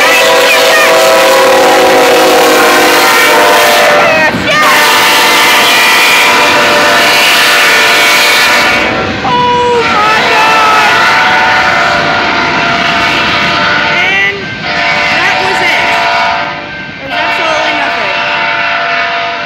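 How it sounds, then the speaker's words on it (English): A loud Union Pacific and CSX freight train with Norfolk Southern and HLCX locomotives rumbles steadily past nearby with a heavy, sustained engine drone and clattering wheels, plus brief horn-like tones and occasional shouting voices. "That was a Union Pacific train at first"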